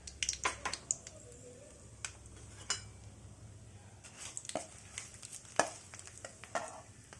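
Mustard seeds and dried red chillies crackle in hot oil as pickle tempering starts, with scattered sharp pops and clinks over a low steady hiss, close and fairly quiet.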